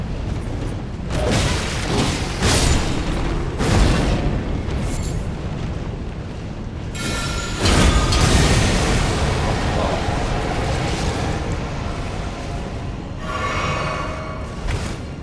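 Heavy booming blasts from bomb attacks in Elden Ring with the Convergence mod, a sequence of loud broadband explosions with rumbling tails, one especially strong burst near the middle, over dense game sound.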